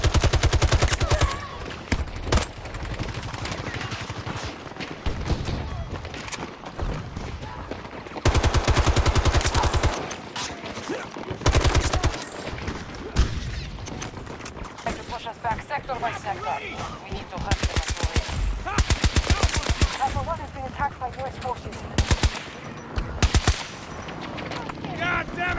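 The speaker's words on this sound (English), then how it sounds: "That's enemy fire" Enemy gunfire in a Battlefield video game: sustained automatic bursts and rapid volleys, loud and dense, with brief lulls throughout. Voices talk now and then over the shooting.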